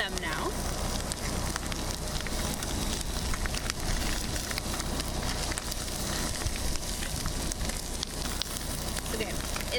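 Fish fillets frying in a pan outdoors in cold Alaska weather, giving a steady, dense sizzle and crackle that holds throughout at moderate loudness, with a voice partly present.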